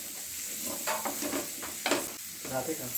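Cubed onion frying in a pan for egg salsa, a dense hiss of frying with bursts of stirring and scraping every half second or so, close-up with no voices.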